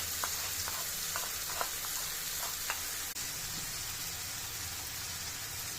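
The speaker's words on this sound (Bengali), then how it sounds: "এটাকে আমি ভাজবো তারপরে গুঁড়ো মশলার পেস্টটা দেবো" Potatoes with ground spice paste fry in a pan for aloo dum, giving a steady dense sizzle with a few light spatula taps early on before the hiss continues alone.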